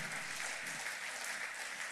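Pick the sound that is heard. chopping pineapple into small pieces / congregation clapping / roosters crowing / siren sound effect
congregation clapping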